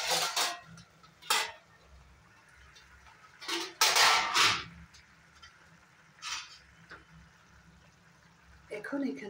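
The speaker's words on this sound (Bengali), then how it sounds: "ঢাকনাটা তুলে দেখে নেব" A lid lifts off a cooking pot with several sharp metallic clanks and scrapes among quieter kitchen clatter, close by, with a voice speaking briefly at moments.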